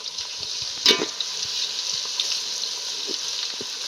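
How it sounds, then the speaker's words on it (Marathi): Ginger-garlic paste added to well-fried onions for a ghee mutton dum biryani hisses in a steady sizzle, with one louder splash and spoon scrapes as it's stirred, close and continuous with no speech. "कांदा चांगला तळून घेतला आता आलं लसूण टाकून घेते त्याची पेस्ट"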